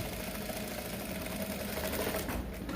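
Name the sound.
sewing machine stitching a hem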